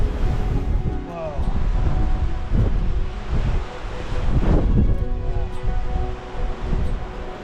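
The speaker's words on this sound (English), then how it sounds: "It's blowing absolute gale." A strong gale gusts along an exposed coastline, buffeting the microphone with heavy roaring rushes and surges of wind, with faint voices underneath.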